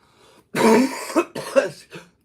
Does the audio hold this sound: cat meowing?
no